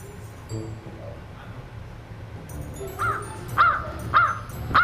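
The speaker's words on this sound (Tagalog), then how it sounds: "Yung uwak ang sumasagot." A crow caws four times in quick succession, loud and fairly close, after a stretch of quieter outdoor background noise.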